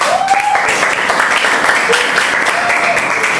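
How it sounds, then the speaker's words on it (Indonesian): A class of high-school students at SMAN 93 Jakarta applauds, a dense, loud and continuous wash of clapping with a few voices briefly audible underneath. "tepuk tangan untuk kita semua"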